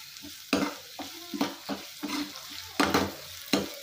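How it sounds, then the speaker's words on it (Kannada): Onions and ginger garlic paste frying in a pan for egg curry, a soft sizzle broken by repeated scraping stirs of a spoon, close and rhythmic. "ನೋಡಿ ಈರುಳ್ಳಿ ಚೆನ್ನಾಗಿ ಫ್ರೈ ಆಯಿತು ಇವಾಗ ಶುಂಠಿ ಬೆಳ್ಳುಳ್ಳಿ ಪೇಸ್ಟ್ ಹಾಕ್ತಾ ಇದ್ದೀನಿ"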